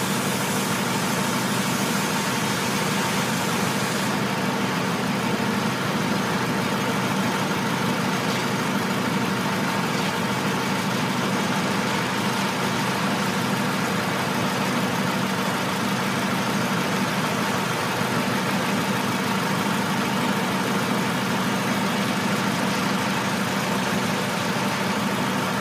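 A 2004 Toyota Camry with a 2.4 engine idles steadily and close by, a constant even hum and rumble that holds unchanged for about twenty-five seconds with no voices.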